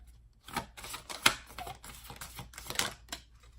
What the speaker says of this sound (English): Pulling 4 cards. This is a Moonology deck.